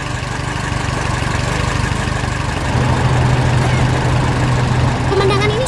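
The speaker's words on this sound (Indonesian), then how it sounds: "Suara mesinnya menggelegar membuat seluruh pertanian bergetar" A yellow tractor engine on a farm runs loud and close, a steady low rumbling drone that swells a little midway and holds without break.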